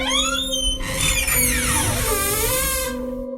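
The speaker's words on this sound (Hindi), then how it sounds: "अचानक दरवाजा अपने आप खुलने लगा।" A long, high, wavering creak of a door swinging open by itself in a house at night, loud and close, sliding in pitch over a low steady hum.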